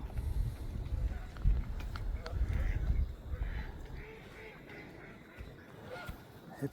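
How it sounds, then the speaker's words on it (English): Ducks quack and honk at a pond in Barrett Domain, scattered calls over a busy outdoor background, with a person talking at times. "Happy ducks."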